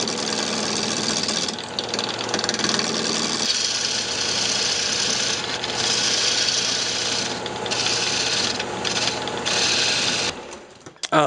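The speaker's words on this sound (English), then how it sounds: "now I'm just going to turn the tenon down on this end" A lathe spins steadily while a tool cuts a tenon on a wooden bandsaw-box blank, a continuous close rasping scrape over the motor hum that shifts in tone as the cut changes, then stops near the end.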